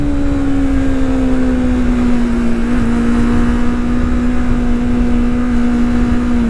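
Car engine held in second gear near 7,000 rpm, a loud steady drone with a sustained tone that dips slightly and then holds, close and continuous with no talking.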